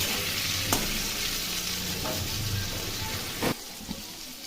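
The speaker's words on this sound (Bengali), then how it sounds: "এখন একটু ভেজে নেব।" Food frying in a pan after salt is added during home cooking: a steady sizzle with a few soft stirring clinks, close and fairly quiet.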